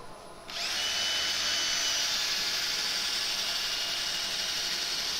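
A natural turned wood piece spinning on a lathe is sanded with 240 grit abrasive, giving a continuous close whirring hiss that starts suddenly after half a second and holds steady.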